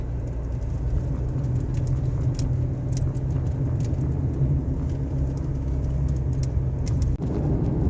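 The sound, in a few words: car driving along State Line Road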